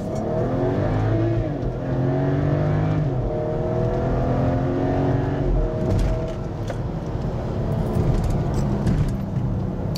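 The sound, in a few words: BMW F25 X3 35i M-Sport engine revving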